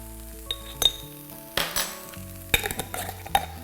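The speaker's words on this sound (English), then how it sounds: "it's important now that we fry this curry powder off for a while" Curry powder frying with softened onions in a pan, while a spoon stirs and scrapes. Sharp clinks of utensil against the pan and a low background sizzle run throughout, with no talking.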